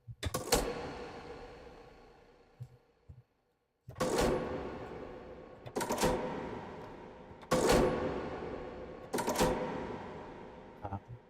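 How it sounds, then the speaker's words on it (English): A typewriter sound effect from the Presage horror VST plugin gives four sharp, reverberant clacks spaced about two seconds apart. Each strike has a ringing, decaying tail, and the clacks play alone. "I'll play one more sound from the typewriter."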